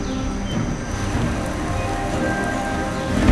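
Heavy, steady rainfall pours down continuously in a mountainous jungle forest, a dense wash of drops hitting leaves and surfaces all around, with no voices.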